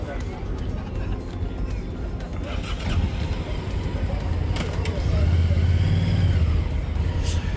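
Car engines start and rumble in a ferry boarding queue, a low engine drone that swells louder partway through against an outdoor wash of noise.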